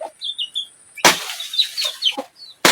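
Chicken vocalizations of short clucks and squawks mixed with a few sharp flapping or scuffling bursts, fairly close and loud, no speech.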